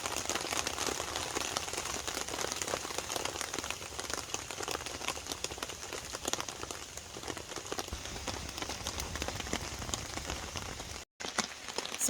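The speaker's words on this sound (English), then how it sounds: "So the rain coming down" Steady rain falling through forest, an even hiss of drops pattering on leaves and ground, soft and continuous with a brief break near the end.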